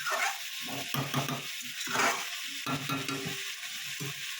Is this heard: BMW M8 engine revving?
no